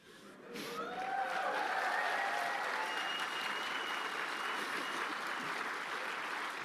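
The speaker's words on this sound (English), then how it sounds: "I like that you not only applaud your own work" A live show crowd at PAX East applauds steadily, swelling to a full, dense roar of clapping and cheers that holds for several seconds with a few whoops on top.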